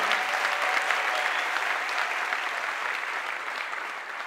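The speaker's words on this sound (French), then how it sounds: "Je vous demande d'applaudir encore une fois Jean-Félix Senga" A political rally audience applauds Jean-Félix Senga at an opposition gathering, with a continuous, even wash of many hands clapping that holds steady throughout and eases slightly toward the end.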